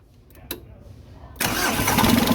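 An old stock Mitsubishi 4D56 diesel engine cranks and catches, a short click near the start, then a loud, steady roar from about 1.4 seconds onward, close to the microphone.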